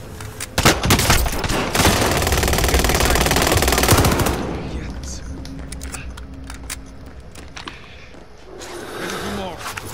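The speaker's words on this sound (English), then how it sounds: "Receiving hostile fire." Dense rapid automatic gunfire from hostile enemies in Call of Duty: Modern Warfare, loud and sustained for several seconds before easing into scattered shots and game noise, with voices talking over it.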